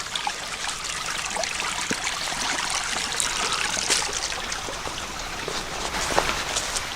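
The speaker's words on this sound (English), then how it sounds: "this is nice along the stream" A mountain stream along a hiking trail trickles and burbles steadily, close by, with small splashes and drips over a constant watery wash and no voices.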